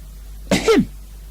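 A narrator's voice imitates a bear's little cough, a single short, close, throaty cough-like sound against a quiet low hum, with no speech.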